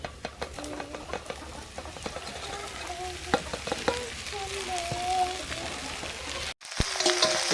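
Khukhdi mushrooms frying with onion, garlic and chilli in a village kitchen: a steady close sizzle with scattered crackles and stirring clicks, faint chirps in the background, briefly cut off near the end.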